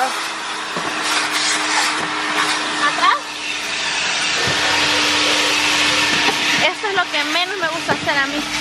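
Vacuum cleaner drawing air with a steady high whine while cleaning car seats, close and continuous, with knocks and shifts of the nozzle and a few speaking voices over it.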